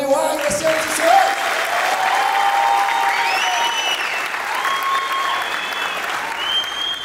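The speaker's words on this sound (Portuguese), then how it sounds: "Uma salva de palmas para o Nil Agra, senhoras e senhores!" A stand-up comedy audience breaks into sustained applause for a comedian, a dense, loud wash of clapping with some crowd noise and whistles running throughout.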